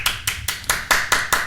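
An audience claps in a brisk, steady rhythm, with about seven evenly spaced, crisp claps in quick succession and nothing else heard.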